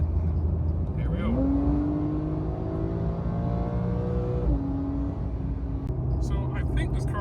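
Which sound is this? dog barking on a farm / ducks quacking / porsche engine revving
porsche engine revving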